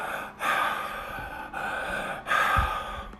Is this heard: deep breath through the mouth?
yes